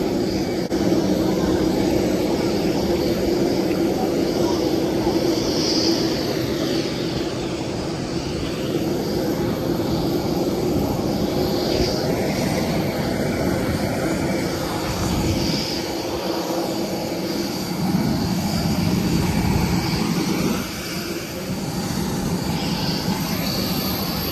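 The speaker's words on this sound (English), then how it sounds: "Our aircraft today is a 12-year-old Jetstar A320 VH-VGR." Steady roar inside the cabin of a 12-year-old Jetstar Airbus A320, a constant broadband engine and airflow drone filling the space with little change throughout.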